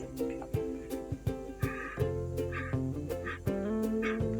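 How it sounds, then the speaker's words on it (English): A dog barks several times in short, sharp bursts over a steady children's music backing, the barks fairly close and clear. "D for dog."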